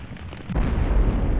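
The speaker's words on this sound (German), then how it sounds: "rot kombiniert bewirkt eine harmlose, aber laute Explosion" A loud game explosion from combining red in C-12 Final Resistance: a sudden broad burst that erupts after a quieter lead-in and rumbles on steadily without letting up.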